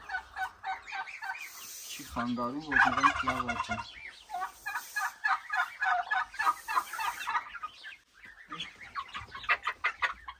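Turkeys gobble and chickens cluck in repeated bursts around a village farmyard, with roosters among the flock; someone talks briefly over the birds near the end.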